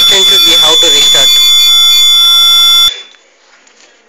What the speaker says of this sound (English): System blocked. It is giving continuous buzzer.